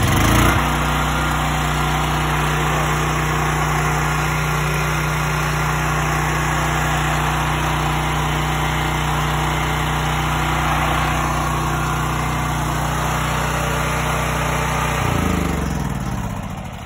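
Champion 100155 generator converted to run on natural gas, a loud, steady, close engine drone that runs evenly for most of the time, then its pitch shifts and it winds down near the end, with no talk.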